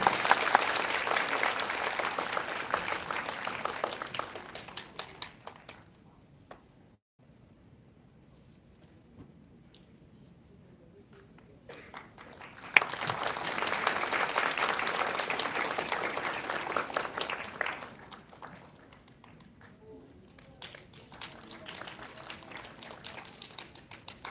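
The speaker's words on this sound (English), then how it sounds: "Once again, a big round of applause for contestant number 1, Alexandra Nicole De Leon." Audience applause at a language arts competition, in two loud sustained bursts of clapping separated by a quieter lull, then fading into lighter scattered noise near the end.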